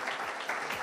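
Audience applause breaks out at the 2022 Premio Jefe BA awards event, a short, steady burst of clapping from a crowd that holds at an even level throughout.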